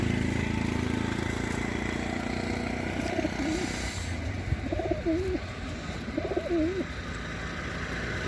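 Two banded racing pigeons in a cage coo in repeated rolling phrases, three clear bursts spaced a second or so apart, nearby over a constant hum.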